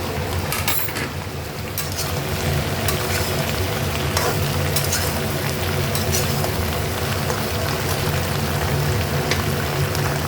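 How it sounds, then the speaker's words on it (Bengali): Malabar spinach stalks and vegetables fry with onion in a pan, a loud, dense, continuous sizzle with occasional crackles and stirring scrapes, close up and without speech. "পেঁয়াজটা ফ্রাই হয়ে গেছে, আমি এবারে ডাঁটাটা দিয়ে দিলাম পুঁই শাকে।"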